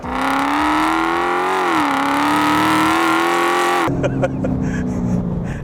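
A 1000hp widebody Dodge Challenger Hellcat accelerates hard with wheel spin, its engine roaring loud and rising steadily in pitch before cutting abruptly to a lower rumble with some clicking.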